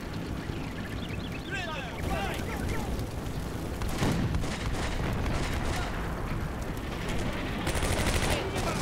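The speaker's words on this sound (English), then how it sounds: "Yeah, we're still shooting at them" Dense, continuous gunfire and rattling bursts from a World War II tactical battle in Combat Mission: Beyond Overlord, steady throughout with heavier crackling swells, no talk over it.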